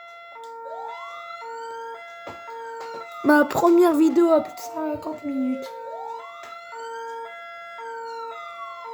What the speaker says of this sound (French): Regardez les sirènes.